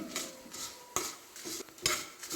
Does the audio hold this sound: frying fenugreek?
yes